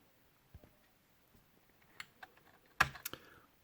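Sparse, faint keystrokes on a computer keyboard, scattered single clicks building to a louder cluster of quick taps near the end, with no voices.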